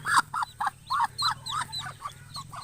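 A mother hen with chicks and ducklings calls out in a series of about a dozen short, honking squawks spaced in a loose rhythm, near and fairly loud over a faint low hum.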